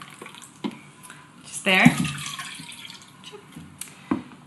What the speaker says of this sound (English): So we're just gonna put one cup of water,